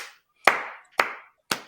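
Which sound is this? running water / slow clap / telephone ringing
slow clap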